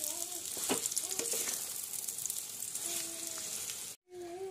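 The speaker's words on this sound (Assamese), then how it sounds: "তেতিয়ালৈকে ভাজি থাকিব লাগিব পানীটো নুশুকোৱালৈকে।" A pickle mixture frying in a pan as its sugar syrup cooks down. The sizzling is steady and close, with light stirring scrapes, and it cuts out briefly near the end.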